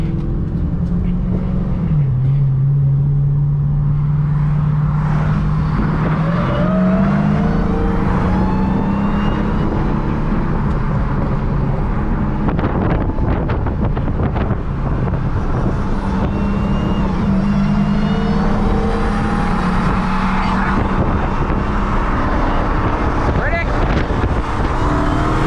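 A full bolt-on BMW M4 and a tuned SRT Hellcat drag racing: loud, sustained engine roar with pitch rising as they accelerate and shift, heard close throughout, with voices talking over it.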